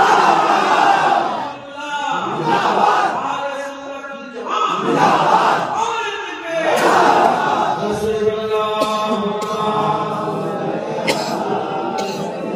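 A large crowd chants a loud collective response to a Takbir call at an Islamic religious gathering, several rising massed-voice shouts repeated in waves, with one leader's voice calling between them.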